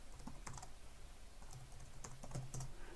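Fingers tap out a command on a computer keyboard in the Betaflight CLI, a steady run of close, light clicks and keystrokes across several seconds with no talk.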